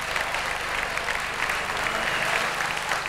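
Studio audience applauds during a live Serbian TV request music show, a steady dense wash of clapping that holds for about three seconds, with a low hum underneath.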